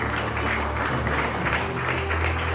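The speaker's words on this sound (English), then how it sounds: "Huge round of applause." Audience applause at a T20 Mumbai cricket league event welcoming Rohit Sharma, a brief steady wash of crowd clapping over a low hum from a sound system.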